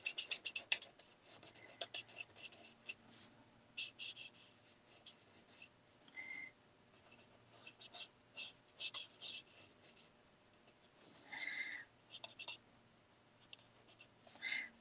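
A marker nib rubs over paper to blend ink on a handmade summer fold card. Soft, faint scratchy strokes come in short repeated bursts, close to the ear, with light handling noise between them.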